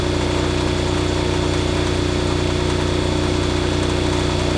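A generator engine runs steadily at about 1800 RPM while being synchronized to a bus, giving a loud, continuous idling drone with a constant hum and no breaks.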